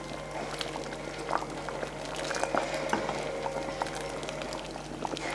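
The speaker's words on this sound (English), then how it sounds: "We're gonna allow it to cook just a little bit more." Red peas chicken soup bubbling steadily in a pot, a continuous boiling hiss and gurgle with occasional small pops, close and even throughout with no talking.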